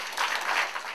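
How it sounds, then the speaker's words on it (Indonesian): Church congregation breaks into a short burst of applause, a brief dense wash of clapping. "Tepuk tangan."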